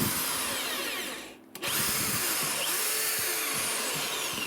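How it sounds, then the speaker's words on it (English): A power drill whines steadily at close range, briefly cutting out and restarting, with rough grinding as it bores into material. "line the drill up on that mark and start drilling"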